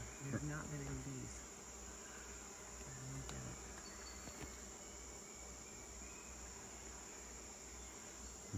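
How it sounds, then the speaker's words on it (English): A faint, steady drone of bees swarming around flowering plants in the Peruvian jungle blends with the continuous buzz and chirp of insects, with a few brief higher tones over the constant hum. "You can see there are bees all over them."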